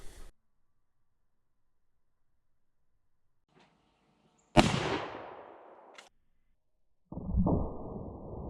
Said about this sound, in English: now we're ready to shoot it for some accuracy